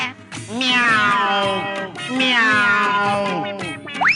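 A voice imitates a cat in a Hindi comedy sketch, giving two long, drawn-out meows up close, loud and wavering, ending with a brief rising squeak.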